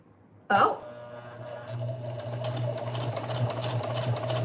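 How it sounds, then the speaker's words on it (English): After a sharp clack, a home sewing machine starts up and settles into a steady, close whirring hum that builds slightly and keeps running to the end. "Is this sewing? Yes, this is sewing."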